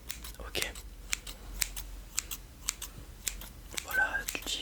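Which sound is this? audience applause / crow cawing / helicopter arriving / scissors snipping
scissors snipping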